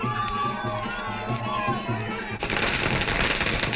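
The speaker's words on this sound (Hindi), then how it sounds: "तो आप आतिशबाजी देख रहे हैं" Fireworks crackle in a dense, loud burst amid a crowd celebrating India's Under-19 World Cup win, after a few seconds of busy background noise with voices.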